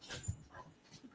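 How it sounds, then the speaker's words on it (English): Dogs playing indoors, faint whimpers and soft yips scattered in short bursts, quiet and somewhat distant in the background. "And my dogs are playing in the background."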